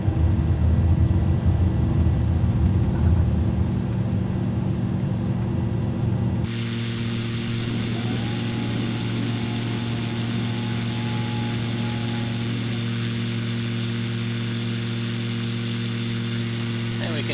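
The engine of an ICON A5 light aircraft drones steadily in flight, loud and continuous. The tone shifts abruptly partway through and then holds a smooth, even pitch, with a voice speaking over it.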